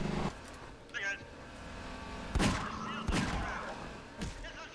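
Several sharp gunshot cracks in the video game Half-Life 2 ring out at irregular intervals, loud and close, over a constant background hum with some speech mixed in.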